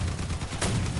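Rapid, loud booming blasts from a cannon in the vehicle combat game Crossout, dense and overlapping in a short burst, with no talk.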